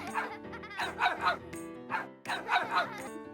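Several close, rhythmic dog-like barks and yips in quick bursts, sounding exaggerated and tonal, as if a voice imitates barking dogs.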